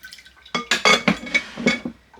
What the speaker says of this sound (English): I'm going to add some more cold water.